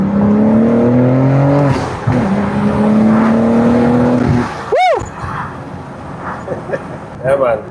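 A BMW G82 M4 with a MeisterSchaft exhaust pulls hard in M1 mode, its engine note climbing loudly through the revs with a crisp snap at a gear change, then a sharp rising whoosh near the end.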